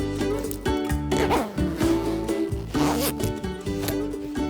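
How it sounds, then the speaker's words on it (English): A zipper on a cosy hoodie is pulled up in several quick, rasping strokes, close and clear with no talking. "All you have to do is zip it up."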